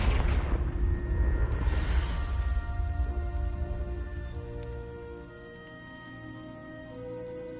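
A fiery Confringo spell blast in Hogwarts Legacy bursts with a loud booming crack, then rumbles and crackles as it fades over several seconds into a quieter lingering hiss.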